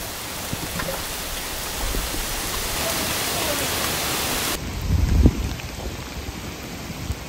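Steady heavy rain falling at an RV campground during Hurricane Ian, a dense continuous hiss of drops on surfaces with a brief louder patter near the end.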